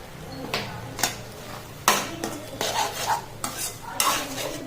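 A spoon stirs snake gourd kootu in a pan, with a series of distinct scraping strokes at an irregular rhythm and soft cooking noise between them.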